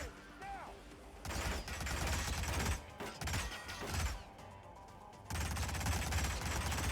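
Enemy gunfire in a Hitman stealth video game: rapid, continuous volleys of shots in long loud stretches with brief lulls between, mechanical clatter mixed in, fairly quiet overall.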